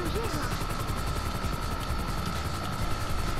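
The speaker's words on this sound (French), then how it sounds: "Il faut que tu sèmes l'hélico." A helicopter in the video game GTA V chops steadily overhead, its rapid rotor thumping loud and continuous, with a voice speaking briefly.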